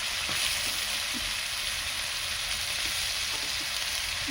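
Ground spices sizzle and fry in a pan with onion paste, chopped tomato and ginger paste, giving a steady, loud, close-up crackling hiss throughout with faint scraping stirs.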